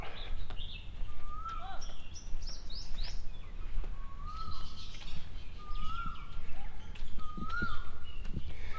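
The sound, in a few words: birds chirping outside a temple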